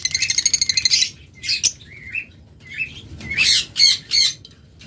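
Lovebirds kept for sale let out a rapid burst of loud, close squawks, then a string of separate sharp chirps and harsh calls with brief quiet gaps between them, and no voices.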